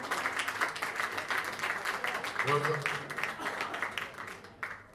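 An audience applauds the San Fruttuoso theatre company at a theatre awards ceremony, a steady moderate patter of clapping with a voice speaking over it partway through.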